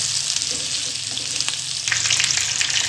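Daal mash frying in a pan, a steady close sizzle with faint stirring scrapes that brighten near the end.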